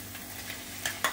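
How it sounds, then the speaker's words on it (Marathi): Tomatoes going into onions frying in a pan, a steady sizzling hiss with two brief sharper bursts near the end, close and short, no voices. "हे अर्धा मिनिट परतून घेते कांद्यावरती. आणि आता हे टोमॅटो घालूया."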